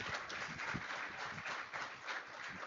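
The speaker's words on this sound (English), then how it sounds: "Give her a big round of applause." Audience applause following a fireside chat, a steady wash of many hands clapping, fairly faint and distant, filling the whole moment without talk.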